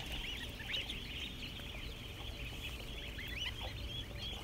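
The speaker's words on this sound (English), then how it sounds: "There's something about these geese." A flock of geese honks and chatters continuously, soft and somewhat distant, a busy overlapping stream of calls with no voices.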